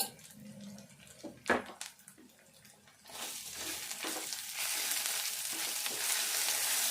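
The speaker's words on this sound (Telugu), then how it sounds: "ఈ కారం కూడా కొద్దిసేపు మంచిగా నూనెలా ఫ్రై కావాలి" Chili powder fries in hot oil for a dried fish curry, a steady loud sizzle that swells after a few soft stirring scrapes and taps, with no voices.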